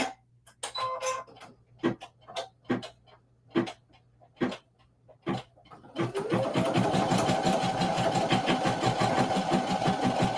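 Embroidery machine stitching out a mug rug design: a few separate clunks and taps at first, then a fast, steady, loud mechanical chatter of needle strokes that runs on continuously with a sustained hum underneath.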